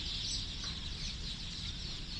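Many small chicks cheep in a steady, high-pitched chorus over a low background hum.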